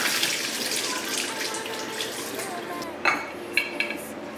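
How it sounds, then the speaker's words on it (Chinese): Boiled glutinous rice balls (tangyuan) get rinsed under a steady stream of cold tap water, with a few sharp clinks of a strainer or bowl near the end. "把它捞出来过一下凉水"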